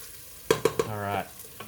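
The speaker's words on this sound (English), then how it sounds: "So they're just gently frying away very, very nicely." Onions fry gently in a pan for vegan ramen, giving a soft sizzle with a few sharp clicks and scrapes of stirring near the start, then a brief tonal ring, with no talk.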